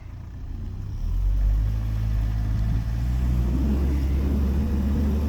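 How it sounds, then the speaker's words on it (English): A Volkswagen all-wheel-drive car's engine revs steadily and loudly while backing up on a Russian farm, a low sustained drone that rises after the first second and holds. "Let's see the power of the Volkswagen."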